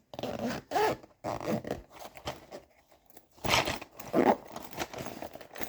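A pencil case zipper is pulled shut in several quick, close rasping strokes with brief pauses between them, crisp and intimate in a quiet room with no talk.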